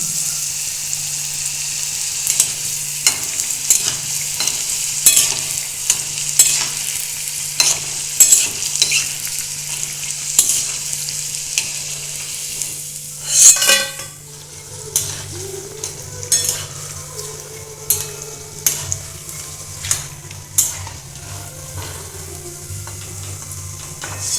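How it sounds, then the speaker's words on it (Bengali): Potato papads frying in hot oil in a wok at home, a steady close sizzle and crackle with occasional stirring clinks, with a brief louder burst of bubbling midway before the frying settles to a quieter hiss. "কড়াইয়ে তেলটা গরম হয়ে গেছে এখন আমি পাঁপড়গুলো ভেজে নেব"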